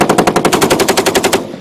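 An M2 .50 caliber heavy machine gun fires a fast, loud burst of about fifteen evenly spaced heavy shots, very close, ending after a second and a half with no voices.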